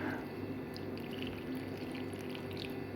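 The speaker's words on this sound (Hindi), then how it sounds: "थोड़ा थोड़ा इसमें हम पानी डालेंगे" Water trickles and splashes steadily into a bowl of gram flour batter for potato and onion pakoras, a continuous close pour at moderate volume.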